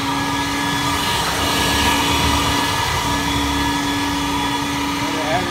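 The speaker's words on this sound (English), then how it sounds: "We'll go ahead and turn on the blower." An Intec Force 1 insulation blowing machine runs its blower for cellulose or fiberglass, giving a loud, steady motorized whine with a sustained hum, continuous and unchanging throughout.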